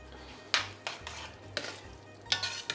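Drained cooked pasta being stirred into a sauce for an aubergine pasta dish: a handful of wet, squelching scrapes of the spoon through the pan, spaced about every half second to second, close and fairly quiet.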